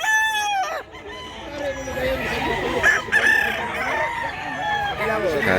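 A bullstag rooster crows loudly and close, with a long rising-falling call followed by another crow, over a steady background of other fowl and faint voices at a rooster sale.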